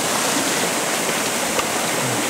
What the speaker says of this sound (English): If I remember right, there's a waterfall here.